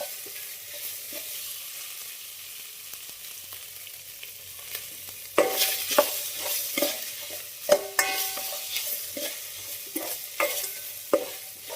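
Ginger paste fries in a pan for kuska, a continuous sizzle that grows louder midway as a spoon stirs and scrapes against the pan with repeated clinks.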